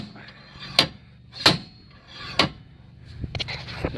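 Three sharp metallic bangs from a slide hammer knocking out a Peugeot 107 rear wheel bearing, spaced about a second apart, followed by a cluster of smaller knocks and scrapes.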